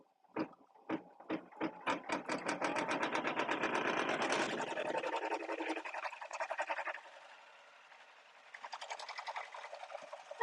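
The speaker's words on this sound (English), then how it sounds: "I have my machine going about 700 stitches." An embroidery machine stitching a zipper in the hoop at about 700 stitches per minute: a few slow starting thumps, then a rapid, even mechanical stitching rhythm that shifts in tone and eases midway before picking up again.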